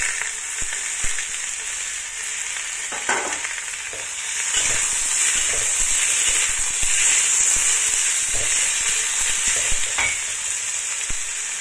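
Bitter melon stir-fries in a hot pan, Chinese style, with a loud continuous sizzle and hiss that swells midway, punctuated by occasional pops and stirring clicks.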